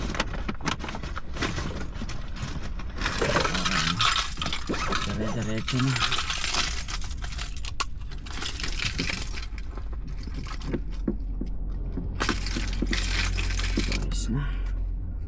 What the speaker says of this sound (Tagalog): tapos kukunin ko na rin pala yung susi ko